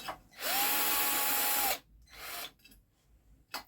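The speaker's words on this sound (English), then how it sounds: "So all I did was just put the drill to the sides," Power drill used in a DIY T-shirt screen printing setup, giving one loud, steady high whine of just over a second, followed by fainter, shorter rustling bursts.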